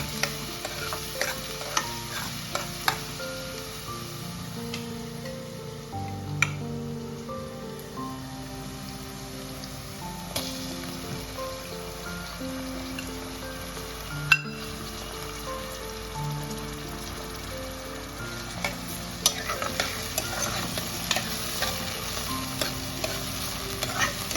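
Onion and tomato frying in a pan for Kolhapuri mundi rassa, with a soft, even sizzle and repeated spoon scrapes and taps stirring the mixture, moderately near and without talk.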